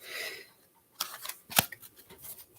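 Tarot cards are shuffled during a live reading, giving soft papery riffles and a few sharper slaps and snaps, fairly close and quiet.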